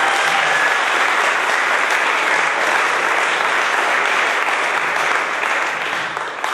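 Loud, dense audience applause fills a hall at a handball club's season opening, a continuous roar of many hands clapping that holds steady and eases slightly at the end, with no voices over it.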